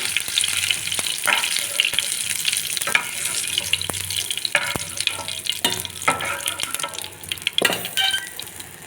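Cumin, mustard seeds and curry leaves fry in oil for a tempering, giving a steady close sizzle with scattered pops, crackles and a few sharp clinks of a utensil against the pan.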